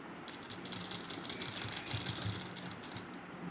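Sewing machine stitching cotton fabric for men's underwear, a fast steady mechanical whirring and clatter, close and fairly quiet, with no speech.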